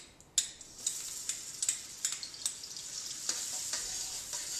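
Vegan margarine sizzling as it melts in hot oil in a pan, a steady faint hiss broken by small crackles and pops scattered throughout, with no voices.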